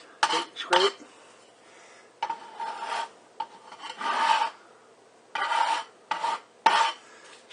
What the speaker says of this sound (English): There's the scraper, see? I just scrape.